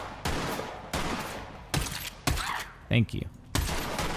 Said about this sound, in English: Someone's up there shooting at me.